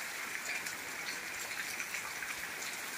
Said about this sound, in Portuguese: muita chuva aqui no município de Santo Sé, Brejo de Fora.